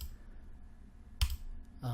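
A single sharp mouse click sounds while patch cables are being arranged in Max 7 software, set against a low, steady background.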